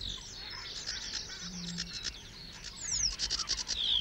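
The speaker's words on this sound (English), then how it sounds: "The varied song of the sedge warbler announces its arrival for the northern summer." A sedge warbler sings a varied, scratchy song of rapid chirps and whistled trills from a reed bed, quiet at first and growing busier and louder toward the end, with no voices.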